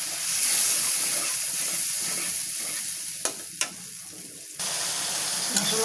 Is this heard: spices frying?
yes